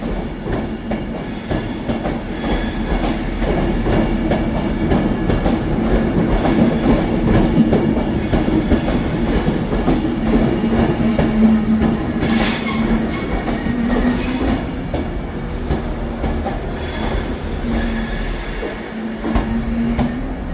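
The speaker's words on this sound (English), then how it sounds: "Our next train that we have is 390047 with 9 Sierra 55, 9 S55 from London Euston to Glasgow Central." A Class 390 electric train, unit 390047, running from London Euston to Glasgow Central passes at Carlisle with a loud, steady rumble of wheels on rails, faint squeals and rhythmic clatter, sustained throughout without talk.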